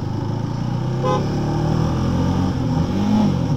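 A KTM Adventure 390 motorcycle (2025) accelerating hard on a highway, a steady loud engine drone rising in pitch with thick wind rush, continuous through the whole stretch.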